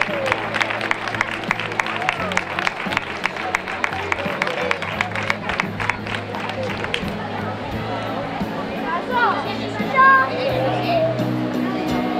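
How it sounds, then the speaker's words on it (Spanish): Audience applause at a ceremony during a village olive fair in Spain: a sustained round of clapping from a crowd in front of an announcer's PA voice, fading into ambient chatter and children's voices. "Venga, un fuerte aplauso para ellos."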